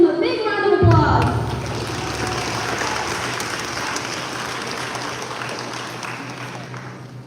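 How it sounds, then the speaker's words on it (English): A voice trails off into loud, sustained applause from a crowd, steady clapping that slowly fades over several seconds. "Let's give them a big round of applause."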